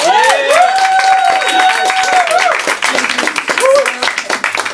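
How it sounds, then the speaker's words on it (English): Loud clapping from a Fringe comedy audience in Edinburgh for the performer Bertram, mixed with whoops, cheers and voices calling out, rising and falling as it goes on. "can you please give another round of applause for Bertram?"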